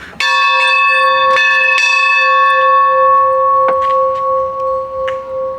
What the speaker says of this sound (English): they missed this train that has a bell right there. So let's give it a pull